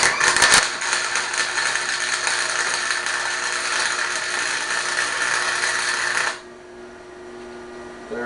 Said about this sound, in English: Let's just finish tacking this up, or actually just giving it the full weld and get it over with.